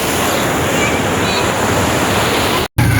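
A small boat moves along a river, its wash and wind rushing loudly and continuously close to the microphone before a brief dropout near the end.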